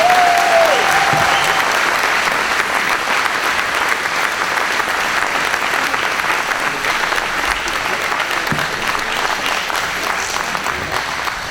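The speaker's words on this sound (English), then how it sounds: "Can we give him a big round of applause?" A YMCA event audience gives a long, full round of applause for award honoree Norm Major, a dense, steady wash of clapping that fades a little toward the end.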